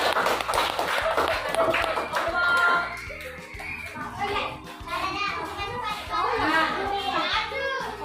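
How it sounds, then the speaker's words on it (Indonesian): A fifth-grade classroom of children claps for a group in a brisk burst of many hands, mixed with lively children's chatter and voices that continue after the clapping fades. "tepuk tangan untuk kelompok 5"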